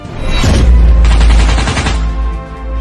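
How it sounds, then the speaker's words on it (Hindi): Bursts of automatic gunfire in the Free Fire video game, loud and close, with a short volley followed by a longer rapid stream of shots, then fading reverberation. "बाबा रेड क्रिमिनल और बनी बंडल के ऊपर गोलियों की बरसात कर देते हैं"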